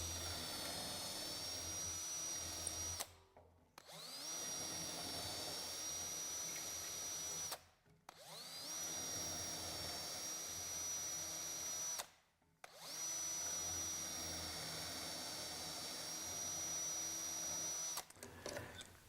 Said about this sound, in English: Tighten it up again and drill the 4 B position holes.